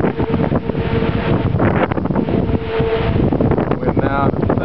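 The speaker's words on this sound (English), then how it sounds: "Big gusts." Strong gusts during a tornado storm in May 2010 roar steadily across an outdoor microphone, a loud, unbroken buffeting rush with a brief voice near the end.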